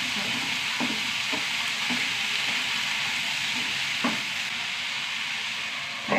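Chili powder sizzling steadily in a hot pan as it is stirred, a continuous frying hiss with occasional scraping knocks of the spoon, close and without talk.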